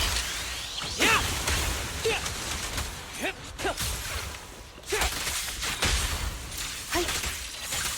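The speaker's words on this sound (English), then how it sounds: "Ever heard the whistle of arrows in flight?" Arrows whistle in flight in a video game battle, a string of quick swishing whooshes arriving every second or so over a busy, roaring background of game sound.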